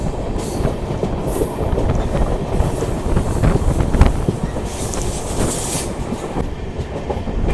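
The Rewa Superfast Express, travelling from Hadapsar in Pune, runs with a loud continuous rumble and rattling clickety-clack of wheels on rails. Wind buffets the microphone, and no one speaks.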